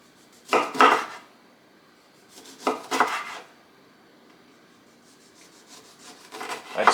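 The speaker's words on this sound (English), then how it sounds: "Cut your lemons, 4 lemons." Knife slicing four lemons for lemon ginger tea, a few separate bursts of blade scraping and knocking on a cutting board, close and fairly loud with quiet gaps between cuts.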